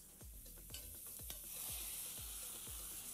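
Chopped garlic sizzles in a pan as sauce is poured in, giving a steady hiss of frying with repeated scraping, stirring strokes at a regular rhythm, fairly quiet throughout.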